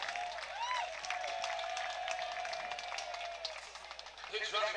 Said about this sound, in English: he'll get a hearty round of applause